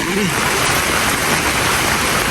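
Rain falling outdoors, a dense steady hiss that fills the whole moment, fairly loud and unbroken.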